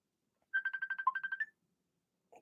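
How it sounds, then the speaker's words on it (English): A mobile phone ringtone plays a quick run of about ten even electronic beeps up close, then stops, followed by a brief faint sound. "Sorry, phone going off here."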